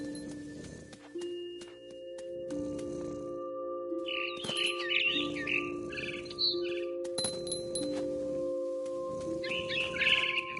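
Mama bird in a big tree in the video game What Remains of Edith Finch, bright chirping bursts recurring over a layered musical drone with clopping, hollow taps; no talking.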